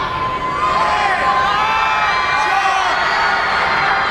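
A loud crowd cheers and shouts at a girls high school basketball game in a gym, a steady roar of voices with whoops rising over it throughout.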